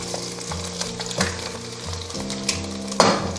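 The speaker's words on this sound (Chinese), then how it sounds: "中小火煎，一定要把这个蛋2面都煎至金黄" An egg fries in oil in a pan over medium-low heat, giving a steady soft sizzle with a few scraping clinks from a spatula against the pan.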